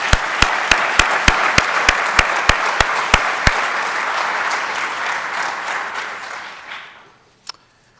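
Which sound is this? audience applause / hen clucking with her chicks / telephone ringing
audience applause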